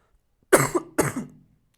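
Two quick, dry coughs from one person, close and clear against silence, the second following right after the first.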